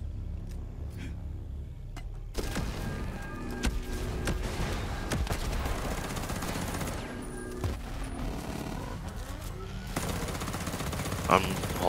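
Dense, continuous gunfire in a tactical shooter firefight, with overlapping bursts and single shots over a busy background, occasional louder cracks standing out, while players talk under the din.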